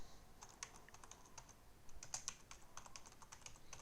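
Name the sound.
typing a title on a computer keyboard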